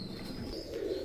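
Oman Teddy pigeons give a brief, soft cooing call against steady low background noise.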